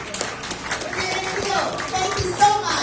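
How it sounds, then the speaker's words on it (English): A crowd at a Richmond election campaign rally applauds an independent candidate, a steady wash of clapping mixed with children's voices and chatter. "So can we give this independent candidate a big round of applause?"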